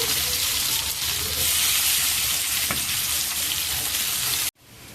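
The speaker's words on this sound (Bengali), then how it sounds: "রসুন লাল লাল হয়ে গেছে এবারে পেঁয়াজটা দিয়ে দেবো" Onion frying in hot oil with garlic in a wok, a loud steady sizzle that runs continuously and then cuts off abruptly near the end, leaving a quieter hiss.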